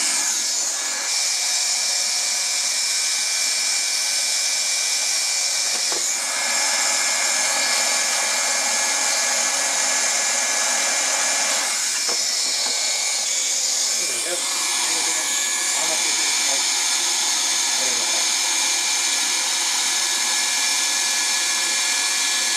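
A hot air welder fusing the seams of vinyl wall covering in a wet room, a steady loud blowing hiss running throughout with small shifts as the tool moves.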